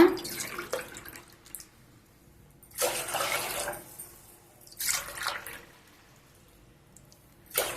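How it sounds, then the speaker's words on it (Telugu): Three glasses of water pour into a cooking pot of milk for semiya payasam in several separate bursts with quiet gaps between, close by and moderately loud, each pour splashing briefly. "మూడు గ్లాసుల నీళ్లు పోసుకుంటాడా"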